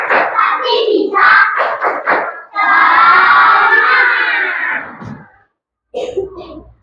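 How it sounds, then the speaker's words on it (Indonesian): A class of fourth-grade schoolchildren chant loudly together in a rhythmic spirit-clap cheer, with quick bursts of shouted syllables giving way to one long sustained group yell, then a short pause and a final burst. "Ya, tepuk semangat lagi yuk."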